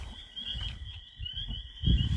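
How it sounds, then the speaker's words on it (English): Toads call with a high-pitched, sustained trill, a thin steady buzzing tone heard faint and distant over low rumbling handling noise outdoors. "you can hear those toads calling"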